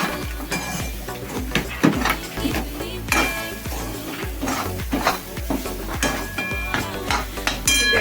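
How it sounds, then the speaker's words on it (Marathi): Sweet modak filling is roasted over medium gas heat and stirred in a pan. A spoon scrapes and knocks against the metal in a quick, repeated rhythm over a soft sizzle, close and fairly loud. "फुल गॅसवरती पण ते भाजायचं नाही मिडियम गॅसवरतीच भाजायचं"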